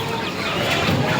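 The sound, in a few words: chickens clucking at a market chicken shop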